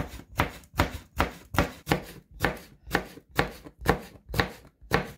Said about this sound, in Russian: Сладкий или острый перец тонкими колечками.